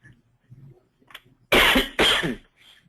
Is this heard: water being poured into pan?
no